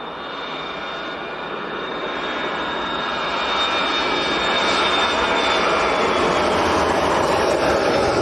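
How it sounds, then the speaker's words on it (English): Jet engines of a Jet2 airliner whine and roar at Leeds Bradford Airport, a broad steady rumble with a high tone that slowly grows louder over several seconds, heard from a distance with no talk. "So Jet2 has pushed in."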